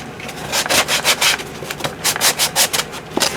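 Sandpaper is rubbed hard across a book cover in quick back-and-forth strokes, a loud, close, rhythmic rasping scrape repeated about a dozen times with no talking.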